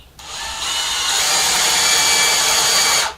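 A power drill drives screws while a model railroad layout lift bridge is being attached, one steady whirring run of about three seconds, close and loud with no talk.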